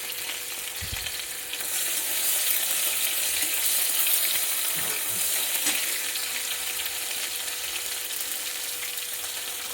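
Tomato dropped into a pan of oil with medium-fried cumin seeds sizzles and crackles, the frying growing louder and steadier after a couple of seconds and continuing close up without any voices.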